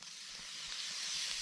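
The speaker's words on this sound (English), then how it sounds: "You want to hear that sizzle." Butter sizzles in a hot pan with a faint, continuous high hiss that stays even and slightly builds, heard alone without talk.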